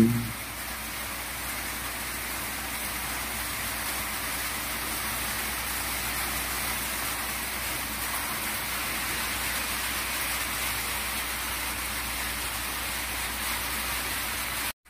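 Heavy typhoon rain pours down in Bicol, a dense, steady hiss of rainfall that holds constant and loud throughout, with no voices.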